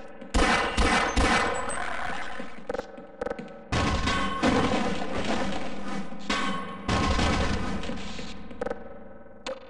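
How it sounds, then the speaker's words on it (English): Rapid gunfire bursts from the shotgun in Half-Life, loud and close, with distorted booms repeating in clusters over several seconds and no talk. "Probably shouldn't be wasting my shotgun ammo like this."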